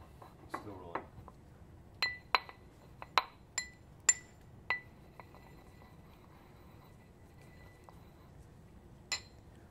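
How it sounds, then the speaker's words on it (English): A pestle works lactose powder in a mortar, giving a run of sharp, light clinks and taps of hard ceramic or glass, some clustered, some spaced, with a soft gritty scrape beneath and a final isolated tick. "add it to the mortar and mix the two together until they have combined"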